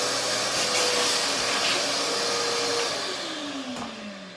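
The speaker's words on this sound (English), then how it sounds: "also vacuum up the mess that I made." A vacuum cleaner cleaning up around a chinchilla cage runs steadily at close range with a loud whooshing roar, its motor pitch sliding downward toward the end.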